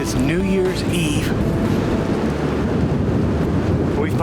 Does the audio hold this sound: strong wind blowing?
yes